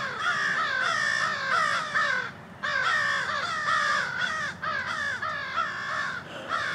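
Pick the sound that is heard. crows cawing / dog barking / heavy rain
crows cawing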